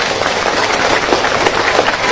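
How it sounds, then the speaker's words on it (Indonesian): An audience clapping at a lively Islamic religious lecture, a dense, loud burst of steady applause lasting a couple of seconds with no talk. "boleh tepuk tangan"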